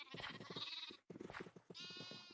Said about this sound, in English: Okay, you're the Jeb sheep